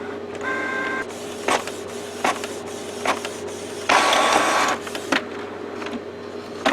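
A Canon Pixma printer with a continuous ink supply system runs a print head cleaning cycle, giving a steady mechanical whir with humming tones, recurring clunks and a louder grinding stretch midway, close and without speech.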